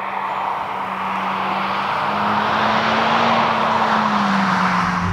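A Honda Civic Type R FK2 drives through a corner, its engine drone steady and rising slightly in pitch with road and wind roar filling the cabin, loud and constant without speech.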